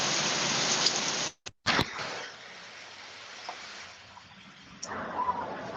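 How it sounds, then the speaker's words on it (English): Heavy rain starts to fall in a loud, dense hiss that breaks off into brief dropouts and then continues more softly and unevenly. "And it just started raining really hard, too."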